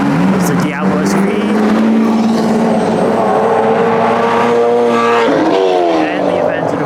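A Lamborghini Diablo SV revs on a Tokyo street, its loud engine note climbing and falling in pitch up close, with people talking and crowd noise over it.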